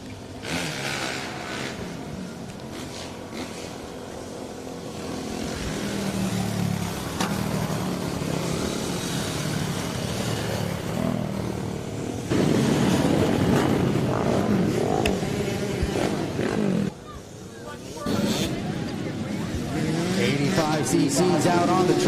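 Flat track motorcycles racing at a night meet in Ashland, Virginia, engines revving and droning past in waves, rising and fading as the bikes circle, loud and continuous.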